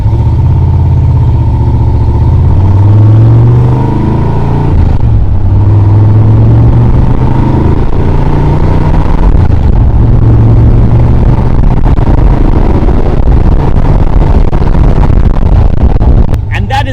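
An AC Shelby Cobra sports car on its first drive produces a loud, close engine rumble. The pitch rises and falls as it accelerates and shifts, with wind roar and rattling over the engine.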